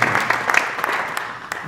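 A church congregation at a New Year greeting service applauds introduced guests, a dense wash of many hands clapping at close-to-moderate distance through a short burst with no talk over it.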